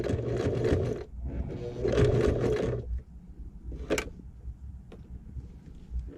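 A sewing machine stitches folded bias binding onto a small crossbody shoulder bag, running in two close bursts of about two seconds each, then falling quiet apart from faint handling clicks.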